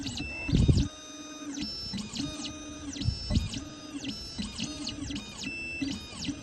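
An Xhorse CNC key cutting machine starts work on a car key, probing the blade. Its motors whir and whine in repeated rising and falling sweeps over a steady mechanical hum, with a louder clatter at the start and no voices.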